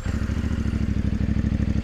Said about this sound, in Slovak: Tak samozrejme, musím vám tento malý, ale zúrivý motor aj naštartovať.